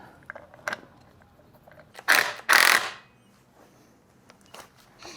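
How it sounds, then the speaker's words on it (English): A fork bolt being threaded and seated on an Ohlins fork cartridge of a 2024 Harley, sharp metallic clicks and two louder bursts of ratcheting close up in a quiet garage. "Now we can put our fork bolt back in."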